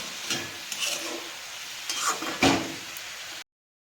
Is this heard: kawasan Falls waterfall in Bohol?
no